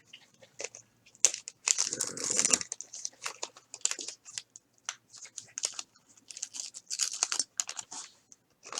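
Topps baseball wax pack from the first series being opened, crisp crinkling and tearing of the wrapper in quick irregular bursts, close and fairly quiet.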